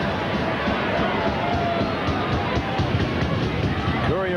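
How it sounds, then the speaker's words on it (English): At a 1989 Balmain Tigers versus Penrith Panthers rugby league match at Leichhardt Oval, a distant stadium crowd roars and cheers steadily while a commentator talks over it. "The crowd like it. They love it."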